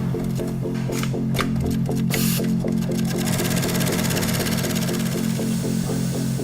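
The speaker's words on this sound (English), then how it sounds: "The first workers to get their hands on the cut leather are the sewers, who stitch pieces together." Sewing machine stitching cut leather pieces in a car factory, a steady fast mechanical chatter of rhythmic needle strokes, close and continuous.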